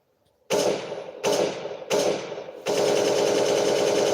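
Machine gun fire in the video game Counter-Strike, loud close rapid bursts: three short volleys followed by one long sustained stream of shots.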